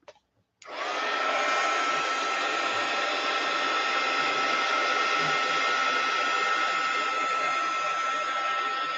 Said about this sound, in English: I'm going to run the heat gun back over it again to get it complete